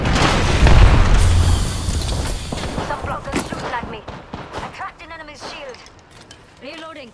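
An arc star grenade in Apex Legends goes off with a loud booming blast and crackling electric discharge, followed by scattered gunfire and game effects as a voice speaks over the tail end.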